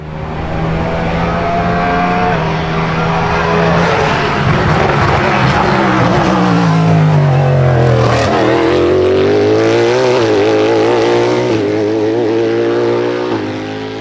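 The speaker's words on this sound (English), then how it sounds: "the sound of the naturally aspirated V8 is the best part" Cadillac LMDh race car with a naturally aspirated crossplane V8 roars loudly and continuously for the full stretch, pitch rising and falling through gear changes as it passes near, with no talk over it.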